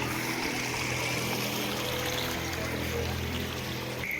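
A full seasonal stream of floodwater after torrential rain in Tharad, Banaskantha, rushes past in a steady, loud, continuous roar of flowing water.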